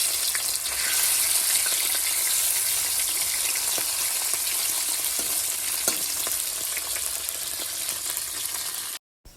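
Thick-cut carrots, potatoes and onions frying in a pan make a loud, continuous close sizzle with occasional crackles and stirring clicks, ending abruptly in a brief silence; no voices.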